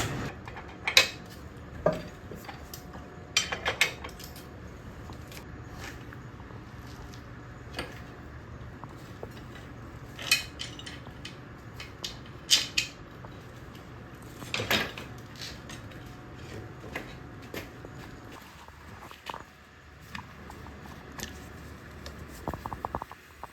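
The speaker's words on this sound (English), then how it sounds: "pull the wheel off and get started" Metallic clinks and scattered knocks of tools and parts sound as the wheel comes off a Honda CR250 dirt bike during brake pad work, quiet sporadic clatter spread through a calm stretch with no talk.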